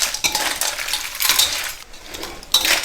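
Clams with basil and chili paste are stir-fried in a pan, the spatula clinking and scraping against the metal in several quick bursts over a soft sizzle, with no talking.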